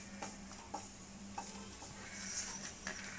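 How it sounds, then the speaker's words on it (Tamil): Cardamom pods roasting in melted ghee give a steady soft sizzle with a few light stirring scrapes and ticks, fairly quiet and without speech. "நெய் நல்லா மெல்ட் ஆயிடுச்சு அதில் வந்து வாசனைக்காக ரெண்டு ஏலக்காவை ஏலக்காவை போட்டு வறுத்து எடுத்துக்கலாம்"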